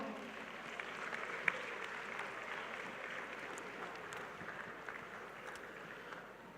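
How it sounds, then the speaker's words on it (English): An audience at a national science challenge grand final applauds the contestants, a steady, fairly soft wash of clapping from a crowd that holds evenly throughout. "let's give them a round of applause"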